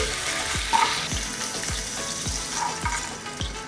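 Chicken pieces frying in a pan, headed for a creamy Alfredo-style sauce, give off a steady, close hiss with soft spatters and a few light stirring clatters, no voices.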